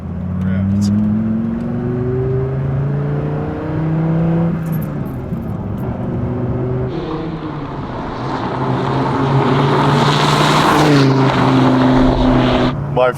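A Dodge Viper GTS engine revs and accelerates hard in a straight line, its rising and shifting engine tones loud and close under someone talking throughout.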